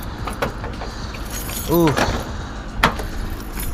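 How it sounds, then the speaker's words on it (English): A large bunch of keys jangles and clinks as a car is unlocked and opened. The rattles come up close in short bursts, and a brief voiced exclamation lands in the middle. "I have a shitload of keys."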